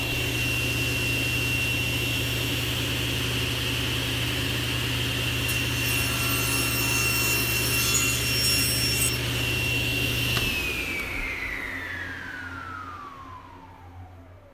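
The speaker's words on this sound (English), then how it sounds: "Turn our blade on, or our saw on." A table saw runs with a loud, steady whine and hum as it cuts wood, then is switched off, its blade pitch sliding down as it spins to a stop; no one talks.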